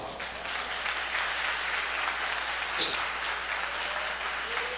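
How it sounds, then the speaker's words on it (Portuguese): A church congregation claps in praise during a service, steady dense applause filling the room throughout, with faint voices mixed underneath. "Pode glorificar a Deus com as palmas"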